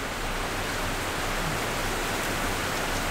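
Steady rain pours down outside in San Francisco, a loud, dense, unbroken hiss of falling water that fills the whole stretch with no voices.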